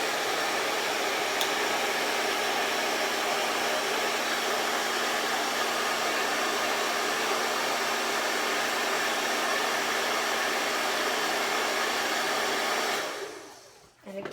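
A hair dryer on its cool setting blows with a loud, steady broadband whoosh for about thirteen seconds, then shuts off abruptly, with no talking.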